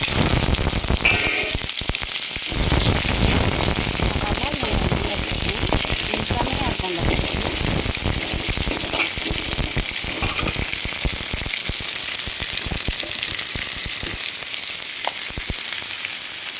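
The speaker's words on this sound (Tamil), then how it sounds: "கடாய் வச்சு ஆயில் விட்டாச்சுங்க இப்போ கடுகு பருப்பு கொடுத்து அடிப்போம்" Steady crackling sizzle of mustard seeds and lentils frying in hot oil in a kadai, continuous and close, with faint scattered pops throughout.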